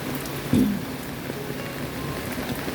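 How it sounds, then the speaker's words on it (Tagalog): Heavy typhoon rain falls steadily in a foggy mountain setting, a soft, even patter on surfaces throughout, with one brief louder knock near the start and no speech. "it's having a typhoon. Typhoon."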